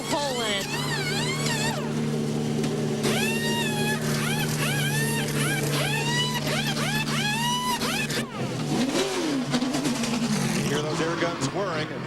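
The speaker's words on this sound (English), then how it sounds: "Air guns whirring, and McMurray pulls away" Pneumatic air guns whir during a NASCAR pit stop at the 2001 NAPA Auto Parts 300, servicing McMurray's car with a worn-out tire, in repeated rising and falling whines over a steady engine drone and crowd din.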